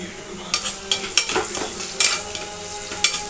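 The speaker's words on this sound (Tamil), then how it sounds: "வெங்காயம் நல்லா வதங்கிடுச்சு." Onions stir-frying in a pan for a Tamil-style prawn curry, with sizzling under repeated scrapes and clinks of a spoon stirring at a steady, uneven pace, close and fairly loud, no talking.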